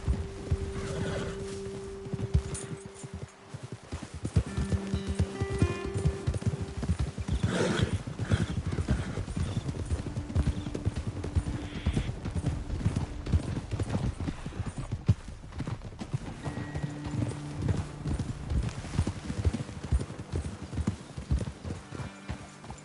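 Horses in a video game ride at a steady pace, with continuous rhythmic hoofbeats and occasional neighs and whinnies over a low, sustained musical backdrop.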